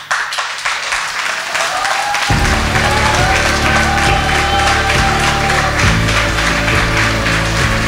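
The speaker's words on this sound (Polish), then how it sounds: "No i drodzy, wielkie, wielkie brawa" An audience breaks into loud, sustained applause, a dense wash of many hands clapping steadily with a voice faintly audible beneath it.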